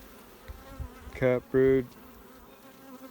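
Honeybees hum around a hive frame of capped brood, a low steady buzz that runs under a short spoken phrase.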